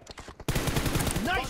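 Rapid gunfire in PUBG Mobile during an 8 vs 8 team deathmatch, a quick burst of sharp shots that cuts in abruptly and runs loud and dense to the end.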